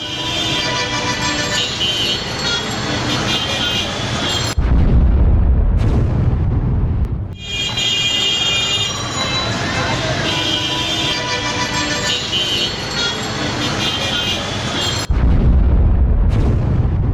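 Car blast explosion in a busy Delhi area lined with parked cars and autos: heavy, loud booming bursts with deep low rumble, recurring in dense, sustained waves, no talk over them.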